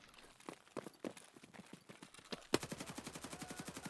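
An RPK machine gun fires in Escape From Tarkov, first in short spaced bursts and single shots, then a sustained rapid automatic stream of evenly paced cracks, fairly close and loud with no talk over it.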